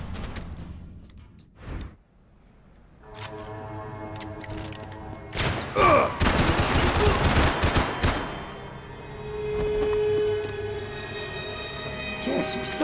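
Gunfire from a weapon in the video game Max Payne 3 comes in loud bursts and rapid fusillades mixed with whooshes and game effects, and a player talks over parts of it.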